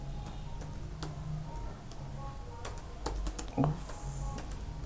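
Computer keyboard typing Python code: a light, irregular patter of key clicks with a few louder taps, over a steady low room hum, with no talk.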